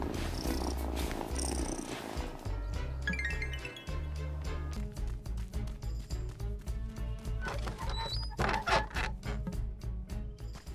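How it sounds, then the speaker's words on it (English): Cat purring in the farming life-sim game Wylde Flowers, a steady close rumble running the whole time under light game music with soft chimes, no talking. "Oh, such a good cat."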